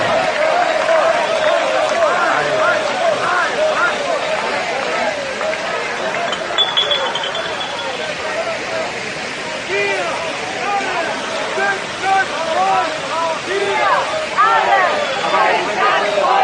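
Large crowd at an anti-lockdown protest in Germany, chanting and murmuring in a dense, continuous wash of voices that stays steady and fairly loud throughout.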